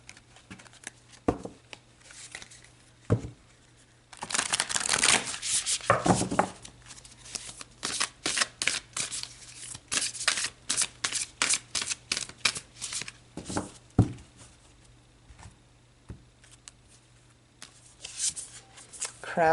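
Tarot cards being shuffled in repeated bursts of crisp riffling and flicking, close and fairly loud, with brief pauses between runs and a faint steady hum underneath; no talking.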